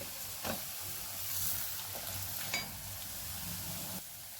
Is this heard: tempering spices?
yes